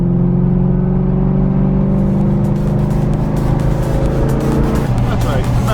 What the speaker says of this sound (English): Camaro just passed